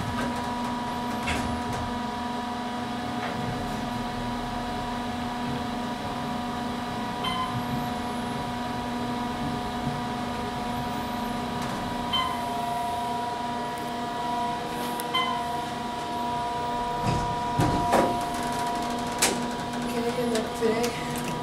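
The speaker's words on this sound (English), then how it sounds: "this elevator is very 90s-ish because it is a 90s Series 1" A 1990s Otis Series 1 elevator at a Holiday Inn Express in Tucson, Arizona, running with a steady low hum and faint mechanical whine, with occasional clicks and people talking briefly.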